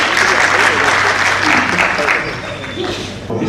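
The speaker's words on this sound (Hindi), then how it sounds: "मैं चाहता हूँ एक जोरदार ताली से उनका स्वागत करें" Loud, dense applause from an audience welcoming guests at a staged play, filling the room steadily and tapering slightly toward the end.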